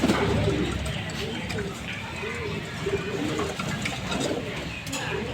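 Racing pigeons coo repeatedly in soft, rolling calls inside a loft in Tangail, heard close amid constant flutter and background rustle, with someone talking over them.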